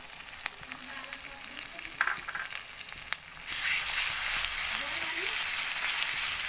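Ginger paste for a chicken curry is dropped into a hot pan. It sets off a close, continuous frying sizzle that jumps louder halfway through, with no voices over it.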